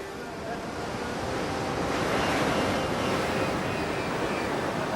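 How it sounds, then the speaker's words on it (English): Ocean surf on a beach on the Coromandel Coast: a continuous roar of breaking waves and wash, loud and close, building slightly midway, with wind buffeting the microphone. "To get off the beach, you've got to get through that surf, and that means picking the right wave."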